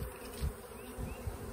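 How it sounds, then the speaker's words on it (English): Honey bees buzz around a hive box on a farm, a faint, steady drone with a few louder passes as individual bees circle close by, and no talking. "There, several bees are circling around up here, so hopefully they'll draw her back in."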